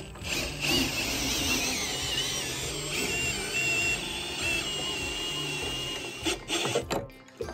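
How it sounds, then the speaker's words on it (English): A power drill runs steadily, close and loud, as it cranks up a Polar Fox trailer, its pitch wavering slightly before it stops in short bursts near the end. "I like to operate that drill nice and slow so that you can watch where you're getting there"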